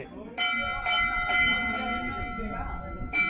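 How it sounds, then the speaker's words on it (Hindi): Metal bells at Ghorakhal Temple, Bhowali, ring repeatedly in overlapping strikes, their tones lingering, with a voice speaking underneath. "घंटियों का ये मंदिर है"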